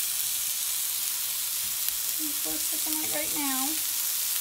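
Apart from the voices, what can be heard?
sautéing cauliflower stuffing in a pan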